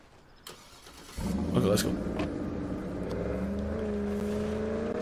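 A car engine cranks, catches and settles into a steady idle and drive in the zombie game State of Decay 2, loud and close, with a brief spoken line over the start.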